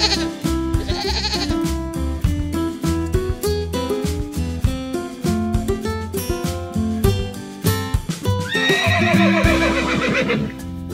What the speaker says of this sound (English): The Black Shire Foal.